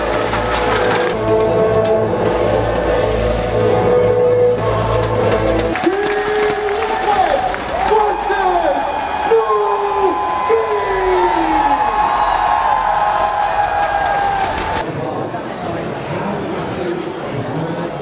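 A large crowd at the ESL One Genting grand finals cheers and whoops in a loud, continuous roar, with an announcer's voice talking over the din.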